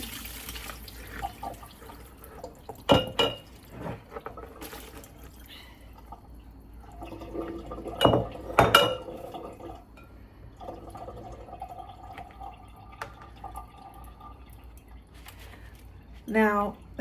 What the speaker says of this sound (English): So I'm just gonna drain this here in my sink.